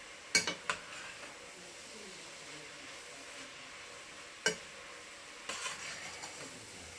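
A spoon stirs chili with meats and vegetables in a pot, giving soft scraping and sizzling with a few sharp clinks against the pot, quiet and close, with no one talking.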